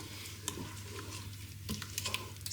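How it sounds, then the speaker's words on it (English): Cottage pie filling stirred in a Ninja Foodi cooking pot, a steady scraping and sizzling texture with a few louder spoon knocks against the pot and a low hum underneath, no talking. "So keep stirring your cooking pot."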